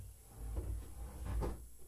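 A door swings shut with a low, muffled thud or two against steady background hum.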